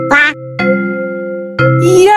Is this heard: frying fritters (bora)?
no